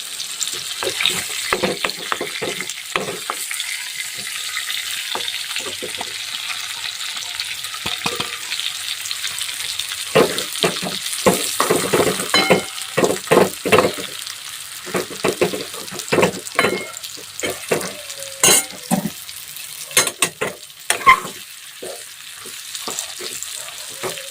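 Bitter gourd pieces sizzling steadily in hot oil as leftover masala is added, with a continuous crackling fry broken by frequent scraping stirs of a spoon against the pan, fairly loud and close.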